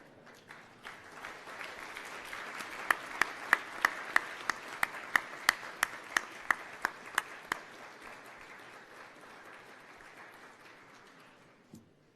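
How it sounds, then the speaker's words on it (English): Graduation ceremony audience at the University of Queensland Gatton campus applauds steadily for about twelve seconds, with a burst of louder, sharper claps in the middle before the clapping thins and fades out. "This is a well-deserved applause."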